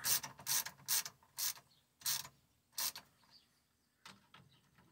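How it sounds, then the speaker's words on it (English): A ratchet snugs the rear differential cover bolts on a 2003 GMC Sierra 1500 in short, close bursts of clicking, about seven separate strokes with brief pauses between them, with no voices. "I'm only very gently tightening these to start."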